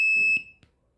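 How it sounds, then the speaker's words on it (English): A health monitoring system alarm gives a single loud, piercing electronic beep that cuts off abruptly, followed by a couple of soft clicks and then quiet. "In order to off this alarm, we need to press this button just like the alarm clock in your house."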